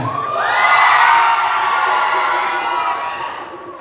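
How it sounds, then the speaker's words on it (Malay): A large crowd of visitors, including a busload of university students, at a zapin dance festival cheers and shouts loudly in one sustained swelling roar, with high-pitched screams riding on top. "Dengar sikit jeritan."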